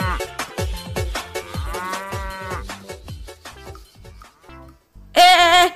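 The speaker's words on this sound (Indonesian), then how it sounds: "ini ada kerbau" Water buffalo lows with a single loud, drawn-out moo near the end, following a stretch of busy, percussive music-like sounds and brief tonal notes; no talking over it.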